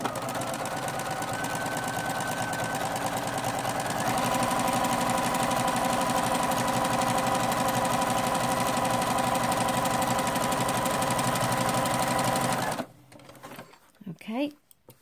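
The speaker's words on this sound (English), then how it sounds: "So I'm just going to show you on the sewing machine. Okay, so we're just going to do a zigzag stitch down each side." Sewing machine running a zigzag stitch, a close, steady mechanical whir with rapid needle clatter that stops abruptly near the end, followed by brief handling noises.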